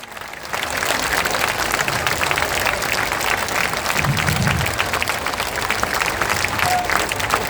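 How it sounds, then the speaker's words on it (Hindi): Sustained applause from a large audience at a political gathering, a dense steady wash of clapping that starts after a brief pause and carries on evenly with crowd noise underneath. "ताली जोर से ताली बजाइए"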